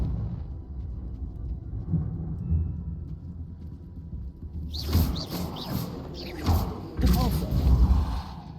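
Confringo fire spell blasts in Hogwarts Legacy, several bursting explosive hits in quick succession after a low rumbling stretch, close and forceful.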